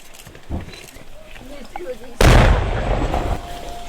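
A heavy explosion booms partway through during wartime shelling in Ukraine, a sudden loud blast followed by a rumbling roar, over a noisy background with people talking.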